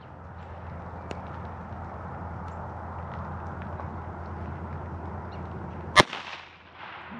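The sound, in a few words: gunshot from a handgun fired at a target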